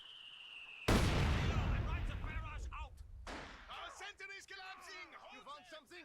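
120mm mortar fire in the strategy game Company of Heroes 2, a sudden loud blast that rolls off into a rumbling decay, with a voice talking over it afterward.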